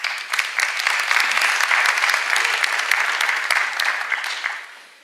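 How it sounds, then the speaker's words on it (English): An audience at an entrepreneurship event bursts into sustained applause, many hands clapping densely and evenly before tapering off at the end, with no voices over it. "I actually want to start giving all of you guys an applause for even turning up"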